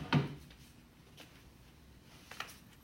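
A drawer is opened and closed in a quiet room: one sharp wooden thump at the start, then a couple of faint soft clicks trailing later, with no talking.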